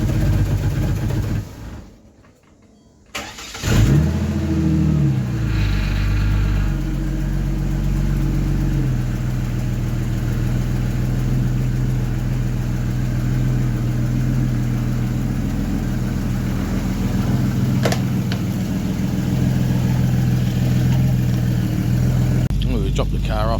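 Supercharged Ford Barra engine in a lifted Ford Territory, rumbling steadily as the car idles and pulls out of a garage, with a brief drop in sound early on before the engine note settles into a continuous low drone.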